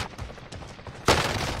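Gunfire in a shooter video game, a scatter of quick shots building into a louder dense burst near the end, with no talk over it.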